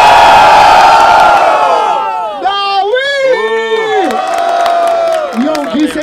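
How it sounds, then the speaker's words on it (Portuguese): A rap battle crowd at an outdoor freestyle event in Barueri cheers and whoops loudly during the vote, a dense roar of voices with rising shouts and whistles throughout, joined by an MC's calls. "Barulho para as rimas de Yonki!"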